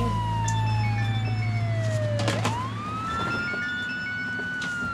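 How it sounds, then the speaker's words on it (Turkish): Emergency sirens wail loud and close, the tone sweeping down then rising again over a low vehicle rumble, continuing steadily to the end with no talking. "Bu arkadan gelen siren sesleri ne?"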